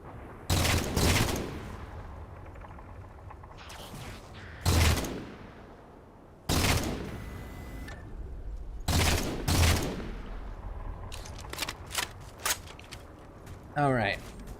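Gunfire in the Halo video game on Xbox, several loud bursts spaced a few seconds apart with quieter mechanical clicks and shuffles between them, and a person talking over the action.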